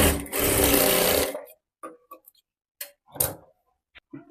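A sewing machine stitches the pleats of a full-sleeve blouse in one fast, loud whirring run lasting about a second, followed by scattered clicks and handling taps in quiet.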